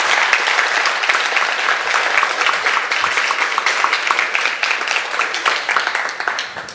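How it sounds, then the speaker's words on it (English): A large audience at a classical Indian vocal recital in London applauds steadily, dense clapping sustained throughout and gradually thinning toward the end. "And another round of applause for the stage."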